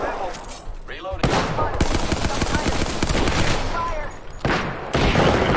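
Automatic gunfire in the battle royale video game Apex Legends, loud sustained bursts of rapid shots with short pauses between volleys, close and dominant, with some talk mixed underneath.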